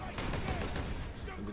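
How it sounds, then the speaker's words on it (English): Heavy bolter fire in Warhammer 40,000: Space Marine, a brief rapid burst of dense, punchy shots, fairly quiet and muffled, with a voice faintly present underneath. "Freaking love heavy bolter so much."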